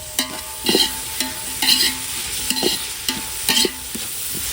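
Biryani masala sautéing in oil in a pan, a bright continuous sizzle with several distinct stirring scrapes at an uneven pace, close by and fairly loud, no voices.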